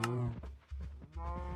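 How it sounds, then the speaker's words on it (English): Cows in Minecraft moo in a few short, close, low bellowing calls one after another, loud and without talk over them. "Hush cows."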